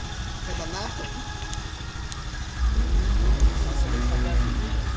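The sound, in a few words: motorcycle engine idling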